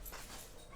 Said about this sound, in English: Oops, my dog.